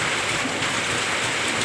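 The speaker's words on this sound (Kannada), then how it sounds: "ಹೀಗೆ ನೋಡಿ, ಇಷ್ಟು ಜೋರು ಮಳೆ" Heavy rain pours down over an areca nut plantation, a dense, steady hiss of falling water that stays constant and close, with no voices.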